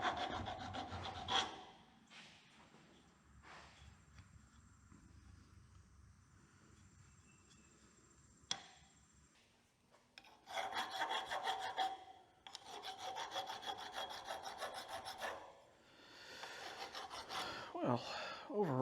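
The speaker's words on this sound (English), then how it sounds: "I have some hand files around that I can get in here and kind of sharpen up these grinds and level it out" Hand file rasping over the ground edges of a homemade metal guillotine tool, long steady back-and-forth scraping strokes in close, quiet passes separated by short pauses, with no speech.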